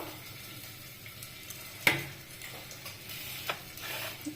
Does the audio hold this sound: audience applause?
no